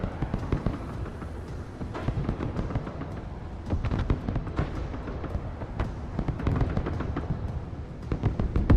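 Lemur weapon firing in the Broken Arrow video game: a dense, continuous barrage of sharp blasts and crackling explosions, loud and close, with no pauses across the whole stretch.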